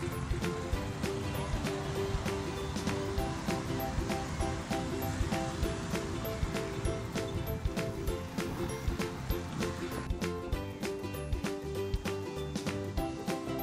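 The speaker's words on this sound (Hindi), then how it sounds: "आज तो कराची में आप देख रहे हैं कितनी हवा चल रही है" Strong wind gusting outdoors in Karachi, a steady loud roaring rush that fills the whole stretch without letup.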